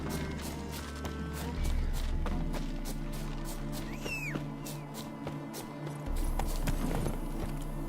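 Roach, the horse in The Witcher 3, galloping through the game world as rapid, steady hoofbeats that swell louder midway, over a constant low game ambience with no talk.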